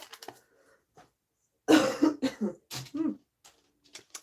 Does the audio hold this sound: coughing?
yes